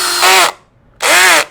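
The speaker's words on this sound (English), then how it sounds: "if a kid accidentally grabs the drill and just goes too fast" Power drill revving at full speed in two loud, close bursts separated by a brief silence, with a whirring motor whine that rises as each trigger pull spins up.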